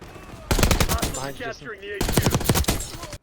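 Assault rifle fire in Black Ops 6 comes in two rapid, loud automatic bursts with a brief gap between them, each a dense rattle of shots that ends abruptly.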